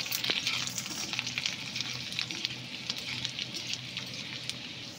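Whole garlic cloves fry in hot oil in a wok, a steady close sizzle with frequent crackling pops and spatula scrapes throughout.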